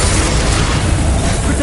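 Confringo blasting spell going off in a Harry Potter video game, a dense, continuous booming blast with heavy low rumble filling the whole short stretch, loud and close.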